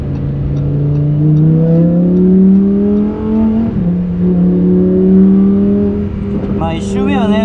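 A Lamborghini's engine and exhaust drone loudly and steadily at close range while it is driven on a wet Fuji Speedway, the pitch climbing and dropping through gear changes, with a sharp rising whine near the end.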